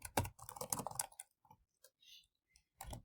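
Computer keyboard typing while text styles are edited: a quick burst of close, crisp key clicks for about a second, then a few scattered single taps and a short final flurry.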